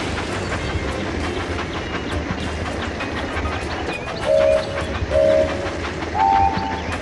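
A Thomas the Tank Engine toy-style train from a video game runs steadily along the tracks with a continuous rolling clatter, and a whistle sounds three times near the end.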